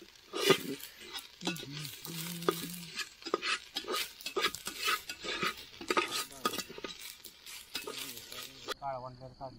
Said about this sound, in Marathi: आता कांदा चांगला भाजला, त्याच्यानंतर आपण टोमॅटो आणि खोबरं टाकलंय. खरपूस भाजून घेणार आहे मस्तपैकी.